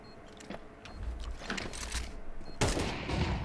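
AK rifles and pistols fire during a competitive esports league match, with dense overlapping bursts of gunfire rattling throughout and a heavier volley breaking out near the end.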